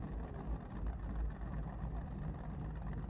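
Racing car engines in the Project Motor Racing video game, a steady low engine drone that hums continuously at moderate level, without any voices.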